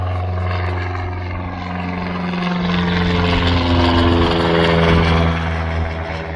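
Cessna 172 light aircraft takes off in windy conditions, a steady droning propeller engine with strong low hum that swells slightly as it climbs, heard fairly close and alone.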